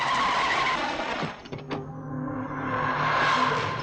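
A car brakes hard to a stop, tires squealing in a loud sustained skid that cuts off abruptly partway through, leaving a lower engine hum behind.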